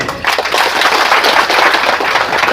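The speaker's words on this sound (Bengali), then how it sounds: "সিজিয়া আহমেদ সাহেবের জন্য একটা হাত তালি দেন" A crowd applauding at a political rally, dense loud clapping that starts abruptly and holds steady throughout, no one speaking over it.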